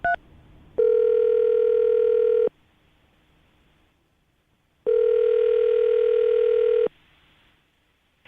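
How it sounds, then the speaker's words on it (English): Two long steady telephone dial tones, close and loud, each lasting about two seconds and separated by silence, sounding while a radio host places a call. "I'm going to dial the phone right now so we can get her on the phone"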